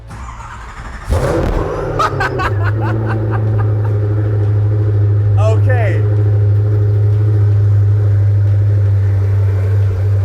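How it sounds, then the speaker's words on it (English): A hypercar engine hums steadily and loudly, with a brief whistling turbo squeal rising above it; a voice speaks briefly. "listen to that turbo squeal"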